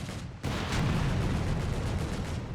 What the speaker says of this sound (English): The Jaegers getting suppressed by the heavy machine gun.